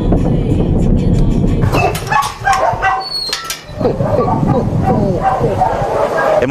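Many dogs bark and yip at a municipal dog shelter, a loud, dense chorus of overlapping barks with a brief lull in the middle, and people talking beneath it.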